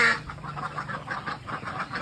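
Young meat ducks on a duck farm of about a thousand birds, a steady run of repeated quacking and clucking calls in a fairly close, busy chorus, with no talk.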